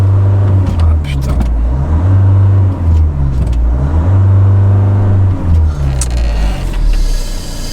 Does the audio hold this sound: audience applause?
no